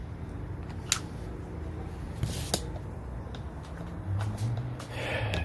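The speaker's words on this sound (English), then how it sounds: "That was Crisco pan release spray." Crisco pan release spray hisses from a can during biscuit prep at an outdoor BBQ grill, a few short bursts ending with a longer spray, all fairly close and faint.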